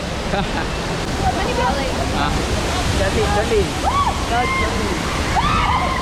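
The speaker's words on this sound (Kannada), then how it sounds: "ಇದೇ ಫಾಲ್ಸ್, ಅದು ಕೊಡಿಗೆ ಫಾಲ್ಸ್" Kodige waterfall in Chikmagalur in heavy monsoon flow, a dense, continuous roar of rushing water with birds chirping faintly over it, steady and enveloping.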